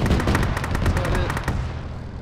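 Rapid bursts of loud gunfire-like cracks and booms from rocket fire and explosions in a ShackTac military video game battle, dense and overlapping before trailing into a rumbling tail, with voices underneath.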